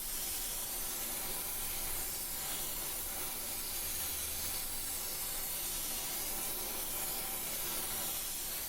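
A torch roars steadily, heating the ends of thin metal window stays clamped in vices, a constant broad hiss heard close up and alone throughout.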